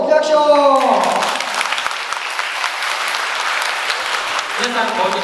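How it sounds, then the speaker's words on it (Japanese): Audience applause at a tenth-anniversary ceremony in Japan, a dense wash of clapping lasting several seconds, with a speaker's voice at the beginning and again as it fades. "大きな拍手を。"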